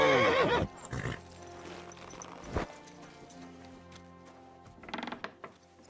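A horse in Kingdom Come: Deliverance II gives a loud whinny at the start, then hoof clatter and a sharp thump follow amid mechanical rattling, with a second burst of noise near the end.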